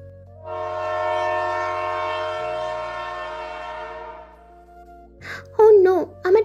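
A train horn sounds as one long, loud, steady blast in a dramatized audio story, fading out before a voice speaks briefly near the end.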